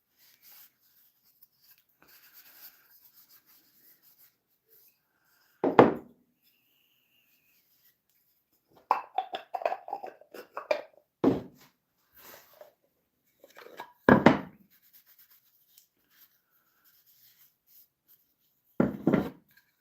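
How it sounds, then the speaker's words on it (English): Wood is hand-sanded in a woodshop in a few separate short rubbing strokes and bursts, fairly close, with long quiet gaps between them. "I'm going to get back to sanding down"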